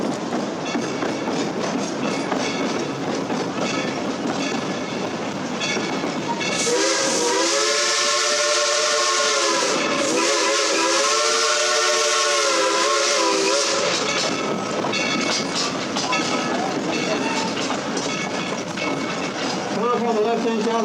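Cinderella, the Dollywood Express steam locomotive, chuffs along with a continuous rumble before a loud, long steam whistle blows, breaks off briefly and then sounds again, close and dominant, fading back into the running train noise afterward.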